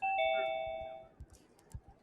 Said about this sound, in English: You rang my doorbell, Doc?